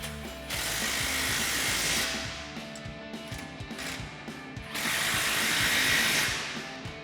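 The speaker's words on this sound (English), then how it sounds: "So we'll grab an 18mm wrench and an 18mm socket on our impact." An impact wrench with an 18mm socket drives bolts on a truck contractor rack fitted to a Toyota Tacoma. Two loud rattling bursts are separated by quieter mechanical clicks and handling, and no one speaks.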